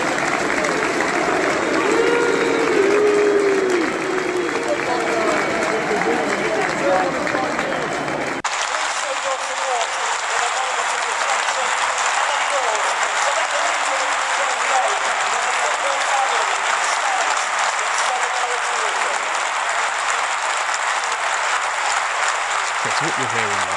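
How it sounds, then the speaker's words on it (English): Chelsea football supporters applauding inside a stadium, a broad roar of clapping and crowd noise; a mixed crowd sound with murmured voices gives way partway through to a steadier, more uniform wall of applause that continues to the end. "those applauding is expressing solidarity with Ukraine"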